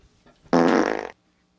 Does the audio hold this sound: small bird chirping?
no